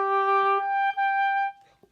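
Oboe plays a sustained upbeat note moving into the next note with flat, undirected phrasing and no push toward the downbeat, a clear solo tone heard alone up close, ending in a short breath-like tail.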